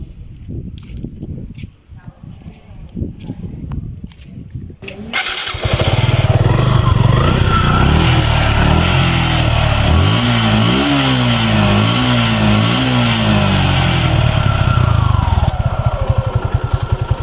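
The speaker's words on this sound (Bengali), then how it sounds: "বাইকটি আমি আপনাদেরকে সাউন্ডটা শোনাবো যে সাউন্ড কোয়ালিটি কেমন আছে" After a few quiet seconds with soft background activity, a 2023 Suzuki Gixxer Fi motorcycle engine kicks on and runs loud and close, revving up and down in repeated surges.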